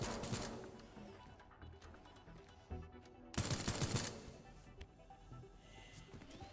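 Robot enemy firing on the player in the video game Teardown: bursts of rapid gunfire with a loud cluster of shots around the middle, then fading crackle and debris.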